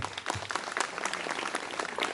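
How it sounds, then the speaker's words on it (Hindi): Guests clap at a Lota Pani engagement ceremony in Ladakh, giving a lively, uneven patter of many hands that carries on for a couple of seconds at moderate volume with no talking. "जोरदार तालियां बजनी चाहिए।"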